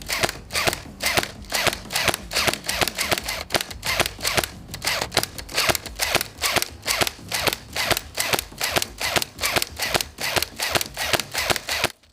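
A toy gun fires rapid sharp shots in a steady run of about two dozen cracks, loud and close, with brief gaps between bursts.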